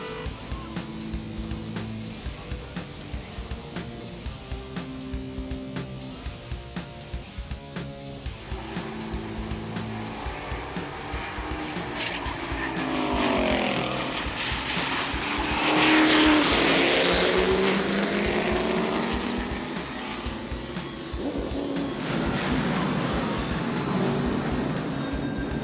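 Rolling Rock Late Models stock cars race in a 2003 feature, engines droning and rising as the pack roars past, loud and continuous with a swelling pass in the middle.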